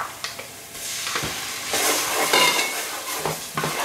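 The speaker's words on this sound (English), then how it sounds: "go ahead and add in our tomato paste" Tomato paste being stirred into frying onions in a pot over medium-high heat, with scraping utensil strokes, clinks against the pot and a soft sizzle beneath, fairly quiet with no talk.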